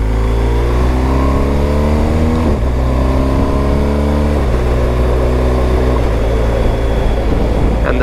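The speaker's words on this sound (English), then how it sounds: "We'll overtake this car." A BMW 1250GSA motorcycle engine drones loudly and close as the rider overtakes a car, pitch climbing through repeated gear changes with steady wind rush.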